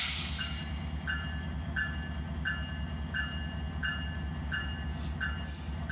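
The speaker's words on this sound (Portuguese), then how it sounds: "o trem de passageiro aí passando aqui na estação de Cachoeira Escura" Passenger train passing through Cachoeira Escura station in the afternoon, a steady low rumble of rolling cars with a faint repeating clatter, high metallic squeals at the start and near the end.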